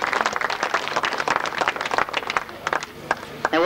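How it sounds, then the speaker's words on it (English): Spectators at a 1994 grasstrack motorcycle race clap in a scattered, moderately close round of applause that thins out toward the end. "Another round of applause"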